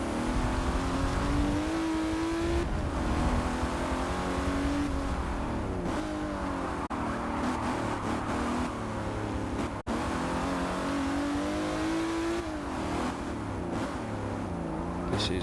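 A classic Aston Martin DBR1 race car engine revs steadily in a Forza racing game, its pitch rising and falling through gear changes. The engine roar stays dense and constant throughout.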